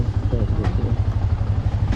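A Benelli motorcycle engine runs with a steady, low, pulsing mechanical throb and light clatter, fairly close, while a person talks over it.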